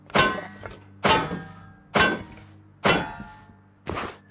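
Loot barrel in the video game Rust being smashed, with five sharp metallic clangs struck at a steady pace about one second apart, each ringing briefly before the next hit.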